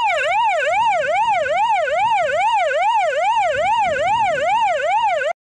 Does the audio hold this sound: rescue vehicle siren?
yes